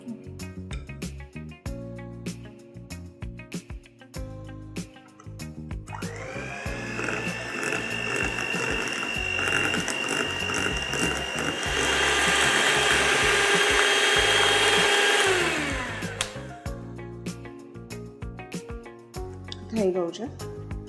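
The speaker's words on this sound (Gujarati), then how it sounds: "હવે આપણે આને બીટરથી બીટ કરી દઈશું થોડું" An electric beater whirs steadily through mango cheesecake mixture with white chocolate for about ten seconds, a loud sustained motor whine that starts abruptly and then cuts off, with voices talking before and after.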